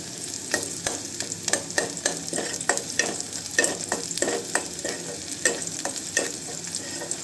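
Chopped onion and a few garlic cloves fry in a pan for a Bengali mutton curry, giving a steady sizzle broken by regular scraping strokes of a stirring spoon, close and moderately loud, with no talking.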